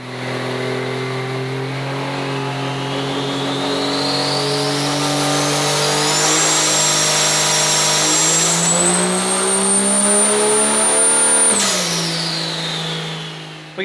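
A 2.5 pulling truck engine revs steadily on a dyno and climbs in pitch under heavy load, holds high, then drops off sharply near the end. It is loud and close.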